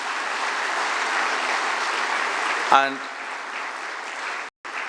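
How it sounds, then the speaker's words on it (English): An audience of new students at a management institute induction applauds in a dense, steady wash of clapping, with a brief voice cutting in near the end. "A big round of applause to all of you for making it to TAPMI."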